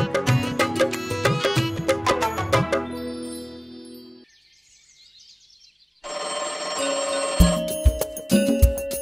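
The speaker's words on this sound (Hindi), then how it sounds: "अरे आपकी मोनी का फोन आया था" A telephone ringtone chimes in bright, rapid melodic notes, pauses into near silence, then returns with ringing tones and jingly accents, loud and alone with no speech.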